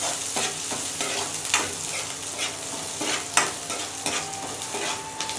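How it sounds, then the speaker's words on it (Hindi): Onions fry in hot oil for a Chhattisgarh-style sour greens dish, giving off a steady close-up sizzle broken by repeated scraping stirs of a utensil against the pan. "प्याज को भी अच्छे लाल होते तक भून लेंगे"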